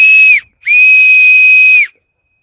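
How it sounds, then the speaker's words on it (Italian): Homemade whistle blown in two loud, piercing steady blasts, a short one then a longer one, each ending with a quick pitch drop and a faint echo trailing after. "Sì, si sente l'eco del fischio."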